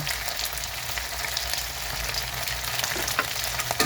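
Chicken skin frying in hot oil, a steady dense crackling sizzle that holds evenly throughout, close and fairly loud, with occasional sharper pops and no voices.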